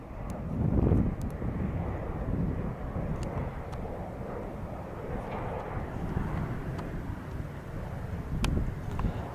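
A SkyTeam-liveried KLM Boeing 737 airliner lands at Newcastle airport, its engines a steady, broad roar that swells slightly near the start and end, with wind buffeting the microphone and no one speaking.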